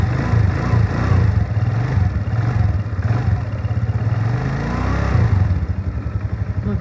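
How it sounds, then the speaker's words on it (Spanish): A Keeway Vieste 175 scooter engine starts and runs with a steady, rattling putter, close and fairly loud, with no talking over it. "ya la corriente va a pasar y vas a poder prender la moto"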